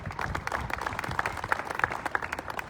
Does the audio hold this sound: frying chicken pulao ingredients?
no